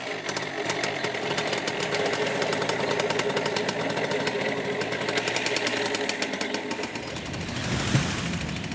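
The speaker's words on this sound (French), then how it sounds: "Composé d'une voile de parapente et d'un petit moteur." A small paramotor engine, powering a paraglider wing, runs continuously at close range, a loud, buzzy, rapid putter that holds steady throughout.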